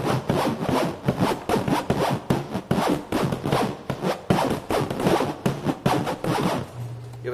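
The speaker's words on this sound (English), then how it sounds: "Oh, you mean these zipper noises?" A clothing zipper is pulled back and forth repeatedly in rapid rasping strokes, close and loud, with no talk over it.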